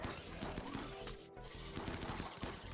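Rapid bursts of gunfire from the video game RimWorld rattle continuously and loudly, a dense run of overlapping shots with no voices.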